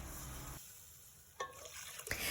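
Meat for bean soup sizzles as it fries in a cooking pot, a soft crackling hiss broken by a couple of brief metallic stirring clinks, close by with no speech.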